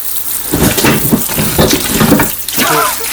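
Radishes are rinsed under a running kitchen tap, a steady loud wash of water with splashing and rubbing of the roots, heard close and alone without talk.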